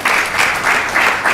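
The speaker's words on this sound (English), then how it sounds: "a big round of applause for Maharaj again, and a big thank you." An audience applauds at a spiritual talk, a dense burst of clapping in swelling waves, loud and close and brief with no speech over it.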